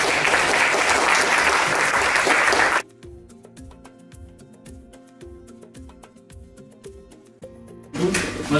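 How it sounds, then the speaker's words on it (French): Audience at a solar pumping workshop breaks into loud, dense applause for a few seconds, then it cuts to a rhythmic mechanical clatter, and the clapping returns at the end. "j'aimerais bien qu'on applaudisse encore un niveau"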